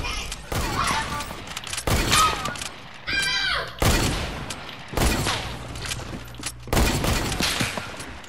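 Gunfire in the Fortnite video game, several sharp loud shots in separate bursts spread across the stretch, with players talking between them.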